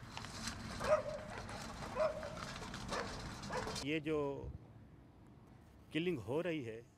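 Dogs at an animal shelter on the edge of Karachi bark and yip over a dense background of other barking and whimpering, then a few separate louder barks ring out close by.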